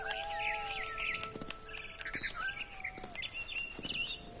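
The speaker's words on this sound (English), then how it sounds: "I tried to be quiet, but the bird was really scared." A frightened bird in the game What Remains of Edith Finch chirps and tweets in quick, high bursts, close and alone with no talking.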